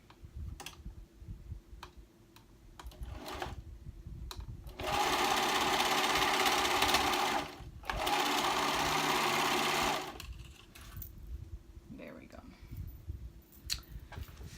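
A sewing machine stitches the shoulder seam of a dress bodice in two loud, steady bursts separated by a short pause, with quiet handling clicks and rustles before and after.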